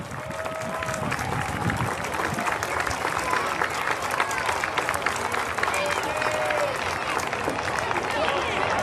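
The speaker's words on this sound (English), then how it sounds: "let's applaud the winner, the Blue Jays, managed by Mark Siegfried" A crowd at a youth league closing ceremony gives sustained applause for the winning Blue Jays team, with scattered cheers and voices mixed into the steady clapping.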